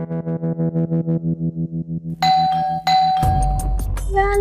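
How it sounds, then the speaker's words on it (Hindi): Inside a home, a doorbell chime rings in a quick repeating pattern of about a dozen even electronic tones, then gives way to a louder, noisier burst of sound. "घंटी बज रही है।"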